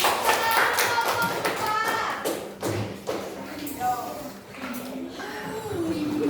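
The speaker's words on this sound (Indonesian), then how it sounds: "Tepuk tangan." A classroom group claps hands in scattered bursts and taps, with thuds and shuffling around them and children's voices talking and calling out across the room.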